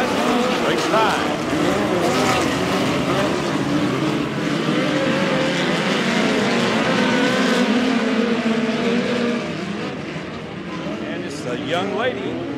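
Midget race cars roar together at Valley Speedway in a POWRi National and West Midget League race, engines howling loud and continuous, with a race announcer talking over the field.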